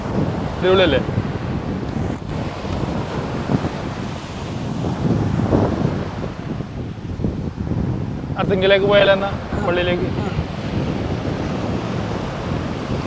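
Strong wind and surf roar steadily at a beach near Arthunkal church, with gusts buffeting the microphone. People talk briefly over the din.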